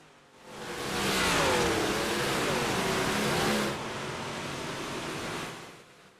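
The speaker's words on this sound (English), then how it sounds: "Cars are just wrapping up the warm-up session." Dirt track modified race cars wrapping up a warm-up session at a Friday night oval, a loud sustained engine roar that swells and holds, then eases to a steady lower drone as the pack circulates.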